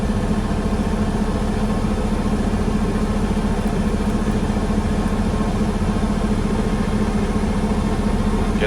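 A vehicle engine idles steadily and loudly throughout, a constant low rumble with no other sounds over it.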